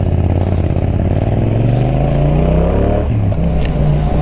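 A Yamaha MT-07 motorcycle engine runs loud and close while riding, its pitch climbing steadily through revs with a brief dip near the end, a continuous droning roar with no talking.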